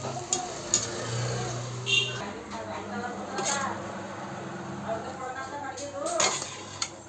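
Raw mango chitranna rice is mixed in a pan, with a spoon clanking and scraping against the metal in irregular knocks, close up, while someone talks over it.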